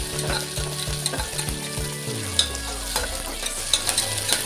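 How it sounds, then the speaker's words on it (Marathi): Onion sautéed in hot oil in a pan with cumin, mustard seeds and curry leaves, sizzling loudly and continuously while a spoon stirs and scrapes repeatedly, alongside a low background hum, with no talking. "कांदा हलवून घेऊया मस्त परतून घेऊया तेलामध्ये"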